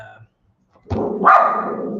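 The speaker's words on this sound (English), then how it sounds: "Raylan, there's a new dog next door that barks, which makes him bark" A dog barks nearby, one loud bark followed by a gruff trailing growl-like sound after a moment of silence.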